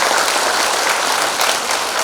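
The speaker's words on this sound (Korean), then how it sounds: "큰 박수 한번 부탁드리겠습니다" Crowd at a Korean Democratic Party presidential election rally clapping loudly, a dense, steady burst of applause filling the whole two seconds at close range with no speech.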